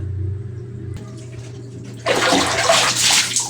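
Water poured from a dipper over hair while bathing splashes down loudly and close, a sudden broad gushing pour that starts partway through after a quieter stretch with low hum underneath.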